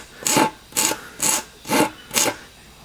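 Hand file rasping back and forth inside a hole cut in a wooden MAME arcade cabinet control panel, five even strokes about half a second apart, close and clear with no talk.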